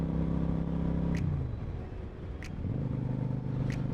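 A motorcycle engine drones at steady revs, drops as it is accidentally shifted up two gears, then settles back into a lower, even hum, with three brief high clicks spaced across the few seconds.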